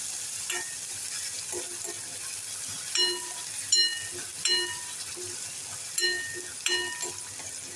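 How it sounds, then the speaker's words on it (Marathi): Finely chopped onion sautéed in a pan with cumin, mustard seed and asafoetida, a soft continuous sizzle broken by repeated clinks and scrapes of a metal spoon against the pan, growing busier in the second half. "आता आपण बारीक चिरलेला कांदा घालूया कांदा छान परतवून घेऊया"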